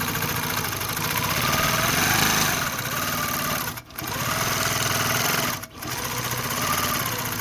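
A Handiquilter Fusion longarm quilting machine couches yarn onto layered fabric and batting, its steady loud mechanical hum running continuously and cutting out briefly twice before resuming.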